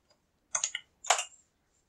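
A computer keyboard is typed on in two short clusters of crisp, close keystrokes separated by a brief pause, in an otherwise quiet room with no speech.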